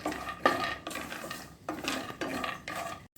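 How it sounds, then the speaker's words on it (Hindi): Peanuts dry-roast in a pan for spicy puffed-rice namkeen, with several bursts of rattling, scraping stirs against the metal, close and moderately loud, separated by short pauses. "और अब हम इसमें ये मूंगफली भूनेंगे। तो 3-4 मिनट तक हमको भूनना है,"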